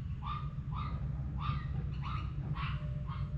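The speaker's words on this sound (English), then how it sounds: "And you can hear that dog." A dog barking repeatedly at a distance outdoors, six short barks at a fairly even rhythm over a steady low background rumble.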